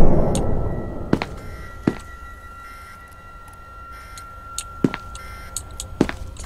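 A heavy door in the video game SCP: Containment Breach moves amid a dim ambient hum, with a few sharp mechanical clunks and clicks spaced through the stretch, fairly faint and with no talking.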